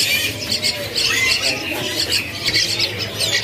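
Nias hill myna chicks call at a bird market, harsh repeated squawks close by over a constant noisy background of other birds and market bustle.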